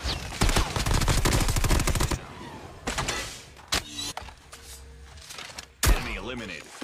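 Call of Duty gunfire: about two seconds of rapid, dense automatic bursts, then a few scattered single shots and thuds, mixed with game effects and a voice talking.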